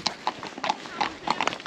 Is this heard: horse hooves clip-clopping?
yes